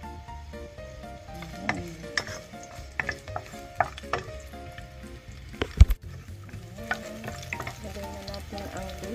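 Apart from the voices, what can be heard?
garlic frying in hot oil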